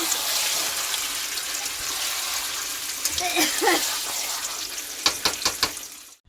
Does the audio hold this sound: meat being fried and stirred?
yes